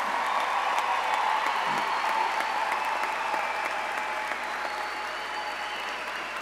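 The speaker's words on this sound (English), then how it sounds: "Let's give our graduates one more round of applause." Graduates receive a round of applause from the audience at a spring college commencement ceremony, a dense, steady wash of many hands clapping in a large hall that holds an even level throughout.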